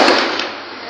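Sharp gunshots ring out during an armed robbery on a street in Edo, near a red Corolla, a loud burst of cracking reports lasting under a second with no talk.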